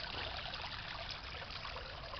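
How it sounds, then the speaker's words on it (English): A small waterfall in a G scale garden railway layout trickles and splashes steadily, a faint, continuous, even wash of running water with no talking. "But this is the waterfall."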